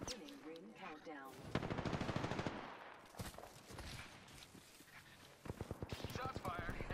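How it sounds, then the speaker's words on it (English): Gunfire in the Apex Legends battle royale, rapid bursts of shots echoing through a chaotic firefight, loud and close at times, mixed with game effects and a player's talk. "Shots fired, and they're hitting me."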